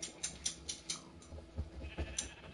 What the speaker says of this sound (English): Hello, mutton sheep.